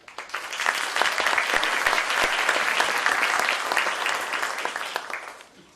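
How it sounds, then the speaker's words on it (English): Audience applause for a panel and imams at an intrafaith dialogue on Islam at Rice University, a dense, steady wash of many hands clapping that holds loud for several seconds and then tapers off. "Let's give a round of applause to you and all the imams here."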